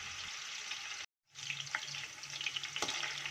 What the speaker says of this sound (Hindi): प्याज़ों को अच्छी तरह से भून लेते हैं।